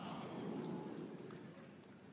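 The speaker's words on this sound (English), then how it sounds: "So right now, it is rainy there." Steady rain falls in Wuhan, China, a dense, even hiss of drops that continues without a break at moderate loudness, with a few faint brighter ticks of drops landing nearby.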